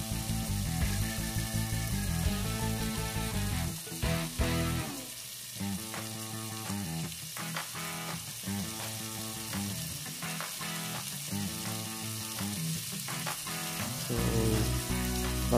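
Gravy sizzles and crackles on a hot metal sizzling plate holding Salisbury steak, a loud continuous hiss with bursts and dips, close by and under a steady hum.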